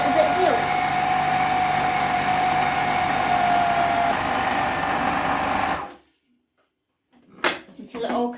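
A kitchen blender or food processor spins broccoli, onions and potatoes, giving a loud steady whir for about six seconds that cuts off abruptly, followed by silence and a few brief clattering knocks.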